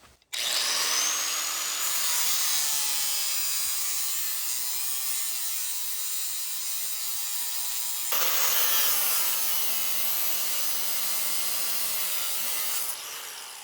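A power grinder shaves small nubs off during a mountain modern home build, whining loudly and continuously in two long passes separated by a short break.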